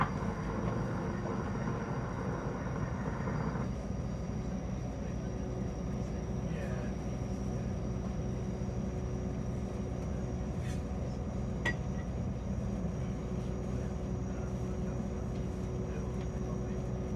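Quiet interior rumble of a Northern Class 170 train in motion, a steady low drone with faint rattles and a brief thin tone at the start, no talking.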